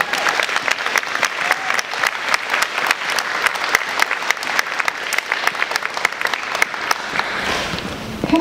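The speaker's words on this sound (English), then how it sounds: "a round of applause for all the teachers." A round of applause for teachers at a school district board meeting: a roomful of people clapping steadily and fairly loudly for about seven seconds before it dies away.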